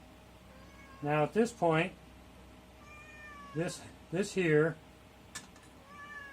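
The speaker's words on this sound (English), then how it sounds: "Hello, kitty cat." A house cat meows in two close, clear clusters of several drawn-out meows, with someone speaking briefly between them in a home workshop.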